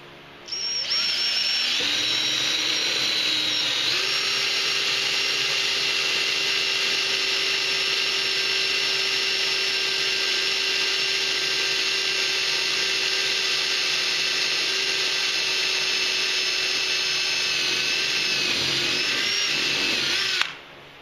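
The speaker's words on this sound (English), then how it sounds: "I'm gonna drill another hole" A power drill bores a hole in an aircraft belly pan, a loud, sustained high-pitched whine that rises in speed early on, holds steady for about twenty seconds, then winds down.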